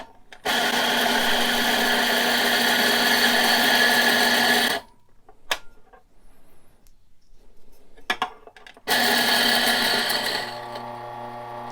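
An espresso grinder grinds coffee in two loud, steady bursts, about four seconds then about two, with a quieter gap between holding a few clicks and handling noises.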